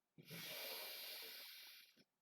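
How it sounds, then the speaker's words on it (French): One long, deep inhale through the nose, close and breathy, builds over about two seconds during a relaxation exercise and ends in a short sniff. "vous allez prendre une profonde inspiration par le nez"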